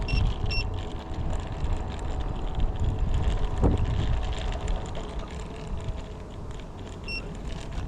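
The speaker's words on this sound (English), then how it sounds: "very windy today" Strong wind buffets the microphone of an AOVO Pro e-scooter climbing uphill in sport mode at around 30 mph, giving a constant low roar and rumble with gusty fluctuations over a faint hum from the scooter.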